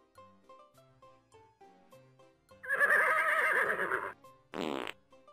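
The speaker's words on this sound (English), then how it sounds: "you hold the brown paper sack up to the horse's anal sphincter and wait" A loud synthesized horse neigh from the Freddy Pharkas: Frontier Pharmacist adventure game follows light chiming game music, then a second shorter burst.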